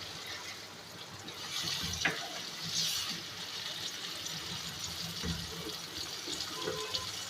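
A cup of water poured into a pot of cooking chickpea masala (Lahori-style chikar cholay), heard as a steady, moderately soft splashing stream that lasts several seconds with no talking.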